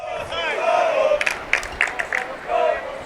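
Cheering and shouts from the crowd at a high school baseball game between Florida Christian and Southridge, a sustained roar with several sharp whoops and yells rising and falling over about three seconds.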